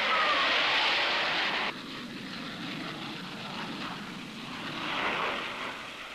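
A high-speed aircraft roars past, loud at first, then dropping to a steadier, broad rush that swells again slightly, with no talking.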